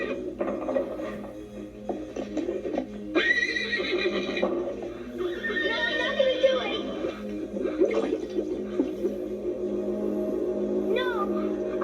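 Horses neigh and whinny from stalls, several high shrill calls rising over a steady low hum and mechanical rattling, with a voice speaking under the animals.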